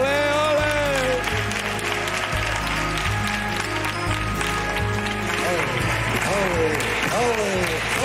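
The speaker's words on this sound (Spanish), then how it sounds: "Pedazo de aplauso para ese pedazo de guitarrista." Audience applause for a guitarist on a television variety show, steady and continuous under loud music with a strong bass pulse, while voices and cheering ring out over it.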